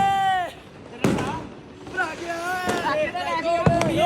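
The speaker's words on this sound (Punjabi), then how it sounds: "ਤੂੰ ਵੀ ਵੀਡੀਓ ਚ ਆਉਂਦੇ ਚੱਕਰਾਂ ਚ ਪਟਾਕੇ ਪਾ ਰਿਹਾ" Diwali firecrackers bang in sharp, loud bursts, with three or four distinct cracks spread irregularly while people shout and talk throughout.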